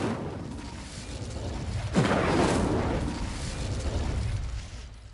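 A fire spell cast in a Harry Potter-style video game, Incendio, bursts out as a sudden whooshing roar partway through, swelling into a sustained fiery rush over the game's low ambient rumble.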